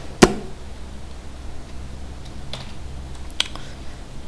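A few isolated clicks on a computer keyboard while typing code for a simple C program, with one sharp close tap at the start and two lighter ones later over a quiet room hum.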